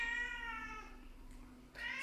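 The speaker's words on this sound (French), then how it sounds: "je vais sortir mon chat, je crois qu'il veut sortir" A pet cat meows insistently at a door, wanting to go outside, giving two drawn-out, tonal cries close by with a pause between them and a steady low hum underneath.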